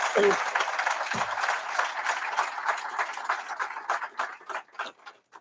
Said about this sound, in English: Can we give them another big, gigantic round of applause?